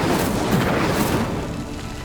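Incendio fire spell in Hogwarts Legacy bursting into flame on a pyre, a broad, dense whoosh and boom with crackling texture. It is loud and sustained, then eases off slightly toward the end, with no voices.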